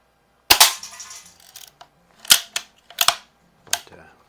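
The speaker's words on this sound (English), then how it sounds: "It's just most of the BBs are going all the way through the can." A Daisy 1894 BB gun fires BBs through a can, giving several sharp, close snapping cracks spaced irregularly with quiet gaps and short rattling tails between them.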